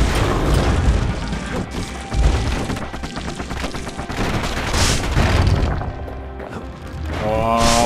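Rapid bursts of weapon fire from the Fang Repeater in the video game Bastion, a dense volley of sharp booming shots and crashing impacts that rises and falls over continuous game noise.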